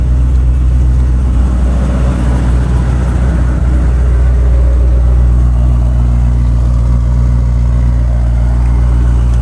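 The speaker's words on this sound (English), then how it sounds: "It'll quiet down a little bit, and then it's probably got a little exhaust leak where I don't have the muffler bolted." A Datsun 280Z engine runs loud and steady close by, its low rumble roughened by an exhaust leak at an unbolted muffler, with no one talking.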